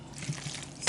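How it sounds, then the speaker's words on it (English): Warm water splashes and trickles into a vegan chickpea pasta sauce in a pan, a brief, soft liquid pour with a light sizzle and a small splash at the end. "this is my little warm water to just loosen up that sauce"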